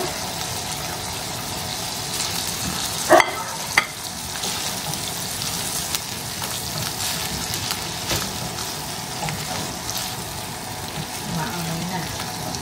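Onion and peppers fry in a pan with pesto, giving a steady close sizzle and crackle from start to finish, with a couple of sharp clinks near the start and no talk.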